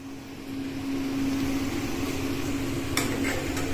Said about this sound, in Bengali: পনিরটা ভেজে নিচ্ছে আগে মেয়ে